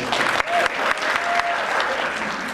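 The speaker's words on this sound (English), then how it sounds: "Let's give a round of applause for Austin." Loud audience applause for a contestant at a man pageant, dense clapping close by with a few sharp individual claps standing out and a faint voice calling through it.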